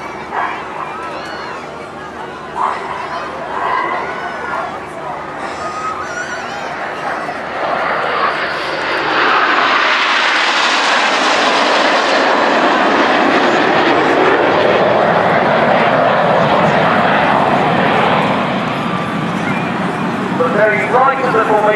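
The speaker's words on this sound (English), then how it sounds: "Very right of the formation there is one of our first year pilots, Red 4, Flight Lieutenant James McMillan." Red Arrows Hawk jets flying in formation at an airshow, their engine roar swelling to a loud broad rush midway and fading, with a commentator talking over it and a dog barking nearby.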